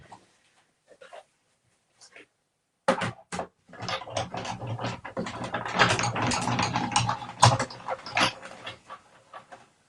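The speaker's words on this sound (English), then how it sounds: "So I'm just going to die cut this." A die cutting machine runs a craft layer through its rollers, giving a loud, steady ratcheting and grinding of gears that starts after a few faint handling knocks and continues to the end.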